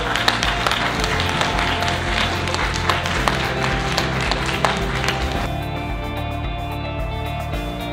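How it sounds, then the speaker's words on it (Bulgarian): Loud, fast clapping from a group at an awards ceremony for young digital marketers, continuous and energetic, with a busy crowd texture that thins slightly near the end. "Аплодисменти!"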